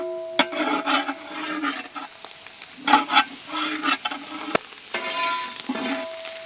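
Chopped Malabar spinach with onion and green chili frying in hot oil, sizzling bursts and scraping stirs of a spoon against the pan recurring every second or so, close and clear.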